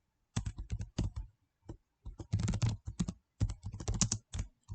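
Python code goes in on a computer keyboard, with close, crisp keystrokes in rapid bursts separated by short pauses, loud and clear with no talk.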